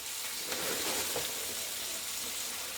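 Cabbage sizzles as it goes into a big, deep skillet, making a soft continuous hiss of frying with slight rustling as it settles, heard close with no voices.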